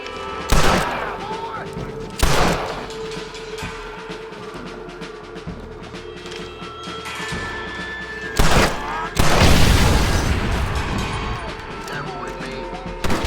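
Gunfire in the Western video game Red Dead Redemption: several loud, sharp shots crack out in separate bursts, with a heavier cluster near the end, between stretches of quieter ambient game noise.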